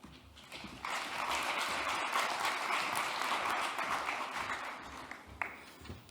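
An audience at a health board conference applauds for a speaker's introduction, a broad even round of clapping that swells in, holds steady, then thins out near the end.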